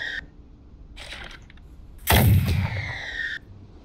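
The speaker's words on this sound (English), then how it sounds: "Also, these grapple cannons are so nice." Grapple cannons firing from a ship in the video game Winds of Fortune: a heavy booming blast with a rumbling tail after a couple of shorter mechanical clunks, loud and close.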